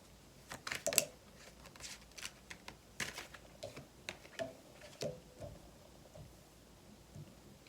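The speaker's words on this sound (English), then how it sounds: "as I was shuffling the cards" Tarot cards being shuffled by hand during a full moon card reading, a series of soft, quick riffling taps and brushing card sounds at close range, quiet and irregular, with no talking.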